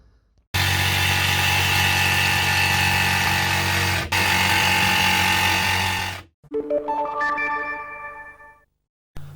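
A power saw with a Makita blade cuts a laminate shower panel in one long, loud, whining cut, then spins down to a descending motor whine and silence.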